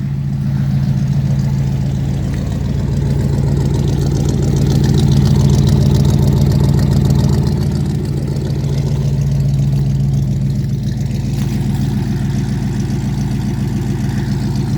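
A 1965 Chevrolet C10 pickup's engine idles close by, a loud, steady low rumble with a lumpy pulsing beat that swells slightly mid-way and then settles, with no one speaking over it.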